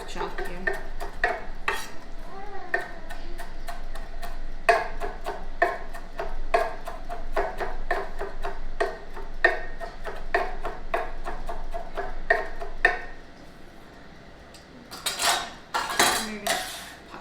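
A knife roughly chopping scallions on a cutting board for salsa, a quick run of sharp, close taps in an uneven rhythm, pausing briefly before a few louder knocks at the end.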